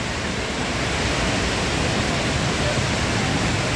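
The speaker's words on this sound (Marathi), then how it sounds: "परंतु पाण्याचा फ्लो जास्त आहे।" Heavy water tumbles over a short, low waterfall at Thoseghar, giving an even, dense roar that stays constant and close for the whole stretch.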